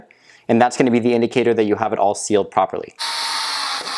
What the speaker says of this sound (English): by putting these screws in, you can start to see that the housing closes together